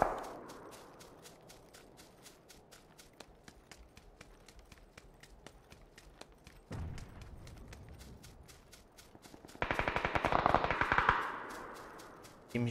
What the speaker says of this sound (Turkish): Seni vurmak zorundayım.